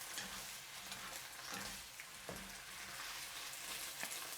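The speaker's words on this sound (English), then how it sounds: "Then add the beef. Stir for 15 seconds." Beef sizzles steadily in a hot pan for a Chinese broccoli stir-fry. Soft scrapes from the stirring utensil come through the constant frying hiss. No one speaks.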